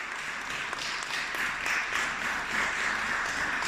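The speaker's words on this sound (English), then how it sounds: "Clap it up." Steady, moderate clapping from a small group celebrating a podcast host's one-year anniversary, an even wash of hands without a clear start or end.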